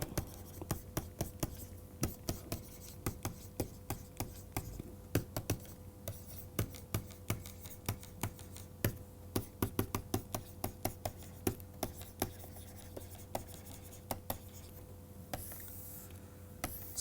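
Chalk or marker tapping and scraping across a board during a physics lecture on quantum electrodynamics, a steady run of short, sharp clicks and strokes at close range with no talking, over a faint constant hum.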